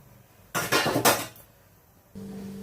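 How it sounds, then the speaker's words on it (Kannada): A metal pressure cooker lid, on a pot of mutton keema sambar, clanks shut in two quick close-up metallic knocks. A short quiet follows, then a steady low hum. "ಆಮೇಲೆ ಮುಚ್ಚೋಣ ಕುಕ್ಕರ್ನ"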